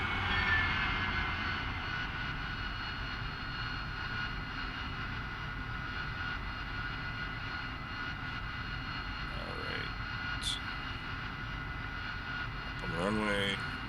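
A steady, droning whine from an AV-8B Harrier's jet engine as it taxis in the DCS flight simulator, continuous and even, with brief faint electronic beeps and chirps near the end.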